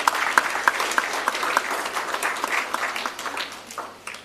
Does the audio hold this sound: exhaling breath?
no